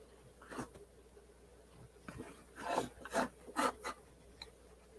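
Nail polish being rubbed off a palette, a few short scratchy rubbing strokes, quiet and close, growing more frequent toward the end, with no voices.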